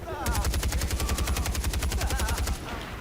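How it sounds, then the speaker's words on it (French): Rapid automatic gunfire bursts in the Far Cry 4 video game, a loud, fast, evenly spaced string of shots lasting nearly three seconds before cutting off. "Ouais, j'ai un lance-roquette!"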